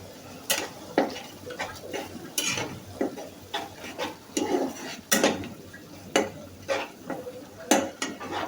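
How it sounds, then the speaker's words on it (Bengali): Shrimp are fried and stirred in a cooked spice paste for a Bengali ash gourd dish, with a soft sizzle under repeated sharp spatula clanks against the pan at irregular intervals, no talk. "এখন আমি চিংড়ি মাছগুলি দিয়ে চিংড়ি মাছগুলিকেও একটু কষিয়ে নিব মশলার সঙ্গে"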